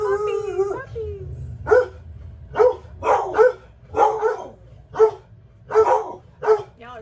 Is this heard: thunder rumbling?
no